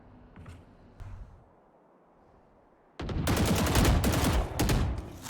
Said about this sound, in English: A lot of pre-firing happening.